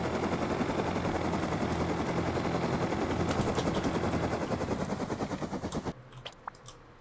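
Attack helicopter in the survival game Rust, a loud, continuous rotor thump with a dense whine that holds steady, then cuts off abruptly near the end, leaving quiet with a few faint clicks.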